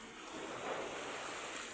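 Rough sea waves break on a rocky shore, a steady roaring wash of surf mixed with wind noise that swells gently midway, with no voices.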